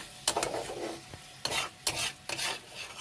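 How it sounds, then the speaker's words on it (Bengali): Spice masala frying in a pan over medium flame and being stirred, with a few sharp scraping strokes of the spoon over a soft background sizzle, alone and close. "একটু মিডিয়াম ফ্লেমে মশলাটা ভালো করে কষিয়ে নেব।"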